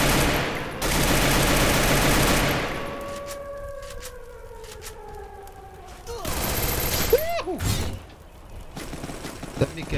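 Cannon fire in a vampire-themed shooter game mode bursts out in loud, rapid volleys at the start and again later, with ringing tones and shorter cracks in between.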